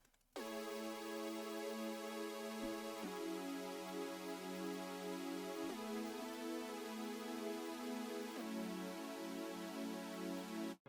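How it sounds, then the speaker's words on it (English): Sustained synth pad chords swell and hold, shifting to a new chord roughly every few seconds in a smooth, steady progression with no other instruments. "So I started out with this synth pad."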